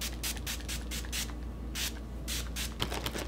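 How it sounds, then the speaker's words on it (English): A small Essence cosmetics spray bottle mists in a run of short, close hissing bursts, several quick spritzes separated by brief pauses, with no talking. "So it's just a little spray bottle."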